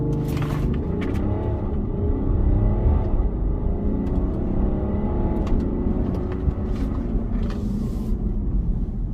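A BMW X5 with a 3.0-litre diesel engine launches hard in sports mode, its engine note climbing in a loud, continuous surge with rising revs and brief dips at gear changes, heard from inside the cabin.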